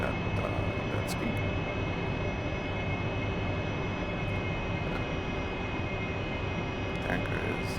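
A steady, loud, broadband roar from an AV-8B Harrier jet engine held at higher throttle during air-to-air refueling behind a tanker, droning without a break throughout.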